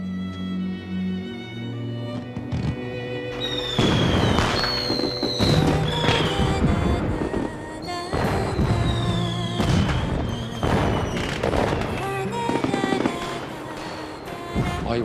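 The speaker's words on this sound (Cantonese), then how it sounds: "外面嘅煙花只會比嚴家鋪嘅更加靚、更加美麗。" Fireworks bursting outside during a Chinese period drama scene, a steady run of crackling pops, whistles and booms layered with background music and a horse's whinny, loud and continuous with no speech.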